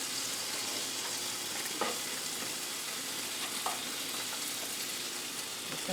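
A corned beef, cabbage and sauerkraut grilled cheese sandwich fries in a pan with a steady, soft, broadband sizzle and a couple of faint utensil clicks, no talking.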